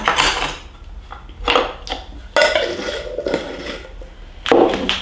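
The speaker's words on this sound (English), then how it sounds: "And then we're adding 1 teaspoon of baking soda" A teaspoon of aluminum-free baking soda being spooned into a container for homemade tooth powder makes a few sharp metallic clinks and scrapes, spaced out with short quiet gaps between them, close and fairly crisp.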